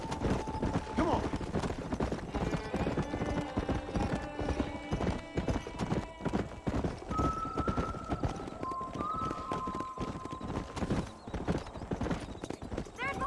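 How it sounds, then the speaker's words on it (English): Horses clip-clop at a steady walk in the Old West world of Red Dead Redemption, the hoofbeats close and continuous, with occasional whinnies and faint game music tones over a low ambient bed. "There's the horses."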